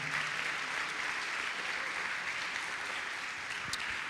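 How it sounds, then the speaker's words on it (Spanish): Church congregation applauding during a sermon, a continuous, fairly distant wash of many hands clapping that stays even for several seconds. "Den un aplauso fuertemente al Señor"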